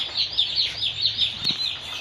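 Day-old broiler chicks cheeping steadily at placement, a dense chorus of high, rapid peeps repeating throughout with no talking.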